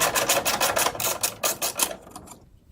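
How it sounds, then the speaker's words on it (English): A 12mm socket wrench ratchets on the bolt of a car battery hold-down strap, giving a steady run of quick, close clicks that stop abruptly near the end. "you're going to need a 12mm socket to take off a bolt right here that holds this strap across"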